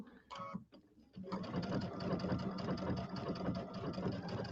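A sewing machine runs a triple stitch on a bench pillow project, starting after a brief pause with a steady, continuous mechanical hum and rapid needle chatter, close and fairly loud, with no talking.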